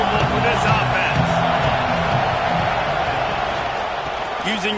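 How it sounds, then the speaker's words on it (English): A football stadium crowd keeps up a loud, continuous roar. Commentators talk over it throughout. "This crowd trying to make life miserable for this offense."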